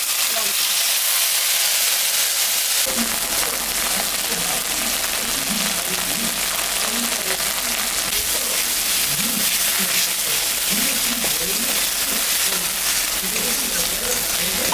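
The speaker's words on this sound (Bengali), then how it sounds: "সর্ষের তেল দিলাম তেলের উপরে শুকনো লঙ্কা জিরা সম্বরা দিলাম" Dried red chillies and cumin seeds are dropped into hot mustard oil in a kadai, breaking from quiet into a loud, steady crackling sizzle that carries on under a voice talking nearby.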